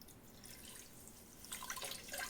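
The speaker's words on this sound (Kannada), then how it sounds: "ಇನ್ನು ಅದೇ ಕಪ್ಪಲ್ಲಿ 1/2 ಕಪ್ ಆಗುವಷ್ಟು ನೀರು ಹಾಕ್ತಾ ಇದ್ದೇನೆ" Soft trickling and splashing of water being poured into a cup of sugar for syrup, quiet at first and then a little louder near the end.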